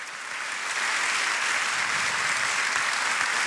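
An audience applauds at a business conference, the dense clapping swelling quickly and holding at a steady, full level throughout.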